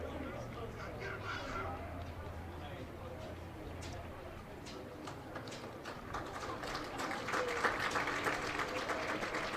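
Crowd at a high school football game between Clements Rangers and Bush applauds as an injured junior linebacker leaves the field, a steady broad wash of distant clapping and crowd noise that swells toward the end, with talk throughout.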